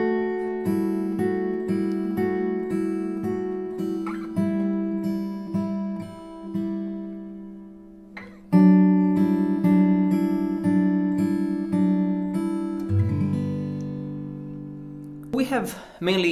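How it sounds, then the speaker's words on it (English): Fingerstyle acoustic guitar in drop D tuning plays a sweet, gentle intro melody on the top four strings, with ringing plucked notes and sustained chord shapes flowing steadily, close and clear with no talking. "Now let's start with the intro, which is mainly played with the top four strings."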